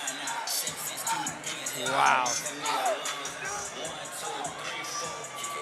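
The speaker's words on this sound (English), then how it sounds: "The crowd is hyped right now." Crowd noise at an amateur boxing card, a steady roar of cheering and babble rising to a louder swell midway, with nearby voices talking over it throughout.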